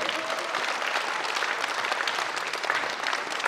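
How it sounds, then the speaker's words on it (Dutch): Sustained audience applause fills a sports hall at a Christmas tournament sports award ceremony in Sporthal Den Oert, dense and steady for several seconds with no talk over it. "En een groot applaus voor hun allemaal."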